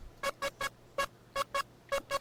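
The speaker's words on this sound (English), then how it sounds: "without the effects, it sounds like this" A dry, unprocessed saw-wave synth in an EDM track plays eight short, evenly spaced bright stabs in a bouncy rhythm, each with a buzzy, harmonic-rich tone and no reverb or effects.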